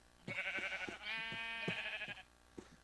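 Sheep bleating in a farming video game, several loud, wavering bleats close together, one drawn out, with short pauses between calls and no talk.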